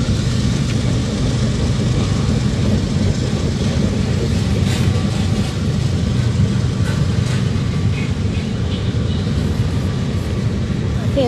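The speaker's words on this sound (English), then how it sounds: "I'll wait till the train goes completely by." A train passes close by outdoors, a loud, continuous low rumble and rolling clatter that holds steady for the whole stretch, with faint higher squeals riding on top.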